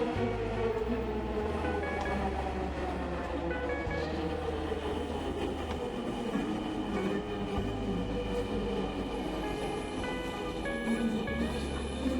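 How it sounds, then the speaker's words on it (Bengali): A metro train rolls into a station in Dhaka with a loud, continuous rumble, metallic wheel squeal and low mechanical drones layered over the station's echoing din. "এই তো আমাদের ট্রেন চলে এসেছে"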